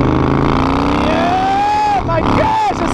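A Harley-Davidson FXDLS motorcycle engine roars loud and close, its pitch climbing as it revs up, dipping briefly, then rising again, with a voice audible over it.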